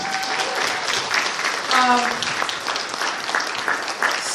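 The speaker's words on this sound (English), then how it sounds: "Guys, give a round of applause to our fursuiter Sigma" A furry convention panel audience applauds a fursuiter, dense steady clapping from a sizable crowd with scattered cheers and voices mixed in throughout.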